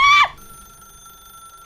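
A telephone rings once in The Stanley Parable video game, a short loud electronic trill that cuts off quickly and leaves a faint steady tonal hum ringing on in an otherwise quiet dark space.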